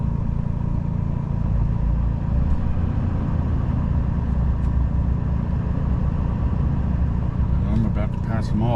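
A car engine hums steadily behind a group of cyclists on a road, a continuous low drone heard from a moving bike with wind noise.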